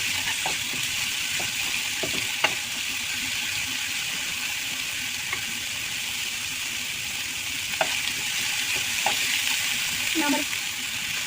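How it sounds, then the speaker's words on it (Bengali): Spice paste for egg curry (dim bhuna) being stir-fried with salt in a pan: a steady close sizzle, broken by scattered clicks and scrapes of a spoon stirring, with no talking. "দিয়ে আবারও মশলাটা ভালো করে কষিয়ে নেব।"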